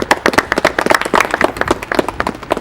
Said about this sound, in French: Bravo Bernadette, on peut la applaudir.